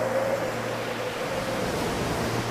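Stormy sea waves and wind make a continuous rushing roar, steady and fairly loud, with no voices over it.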